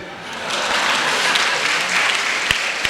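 Steady audience applause at a Hindi comedy poetry show (hasya kavi sammelan), dense clapping close and continuous throughout, with a couple of sharper claps standing out near the end.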